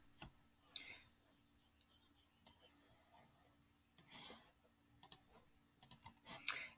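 Someone types on a computer keyboard, producing sparse, quiet clicks. A few isolated taps come first, then short quick bursts of keystrokes close to the microphone, with no voices over them.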